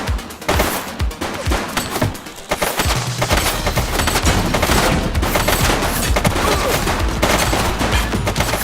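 Sustained rapid gunfire in The Precinct, a police video game, with bursts of automatic fire running loud and nearly continuous through most of the clip, alone without talk.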